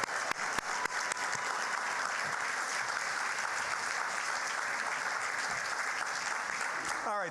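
Continuous crowd applause for all the student debate teams fills the room at a steady, full level, with a voice starting to speak just as it ends.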